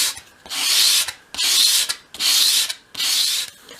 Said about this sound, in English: with the piece at a 45-degree angle against your sandpaper, sweep it towards you